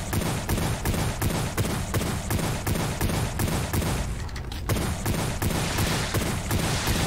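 Rapid, steady gunfire in WRATH: Aeon of Ruin, dense repeated shots blasting at an enemy in a loud continuous volley, a brief lull near the end before firing resumes, no talk.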